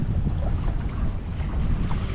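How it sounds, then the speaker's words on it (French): Light wind of about 9 knots rushes steadily past a sailboat heading toward Dakar, with a constant low, broadband whoosh of wind and water and no talking. "Petit vent, 9 nœuds de vent"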